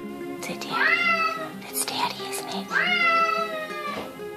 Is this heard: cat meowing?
yes